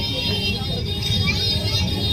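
Heavy road traffic rumbles around an auto rickshaw on a busy Indian street, with a dense, steady wash of engine noise and horn-like tones, and people talking faintly underneath.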